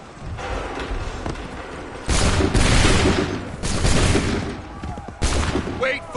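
Musket volleys crash out in Assassin's Creed 3 as rows of soldiers fire together, several loud, dense bursts of gunfire with rolling echoes over battle noise, with voices shouting orders.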